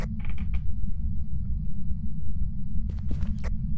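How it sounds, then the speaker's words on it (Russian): Creaking in the horror game Phasmophobia, with a few short creaks and knocks near the start and a cluster near the end over a steady low rumble of game ambience. "Скрип какой-то был здесь."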